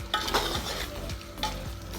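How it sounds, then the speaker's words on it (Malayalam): Sautéed onion is stirred into half-cooked chicken for Thalassery dum biryani, giving close, brisk spoon-scraping strokes over a gentle sizzle, several stirs in quick succession with no voices. "വഴറ്റി വെച്ച ഉള്ളി നമ്മൾ ഇതിൽ ചേർത്ത് നല്ലോണം മിക്സ് ചെയ്യാം."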